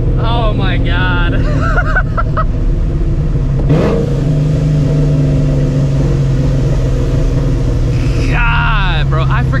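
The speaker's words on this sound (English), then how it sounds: "I forgot how loud, ear-piercing loud this car was" Supercharged 2004 Mustang GT engine droning loud and steady through a drive, a deep continuous rumble with a brief surge near the middle; people talk and exclaim over it at the start and end.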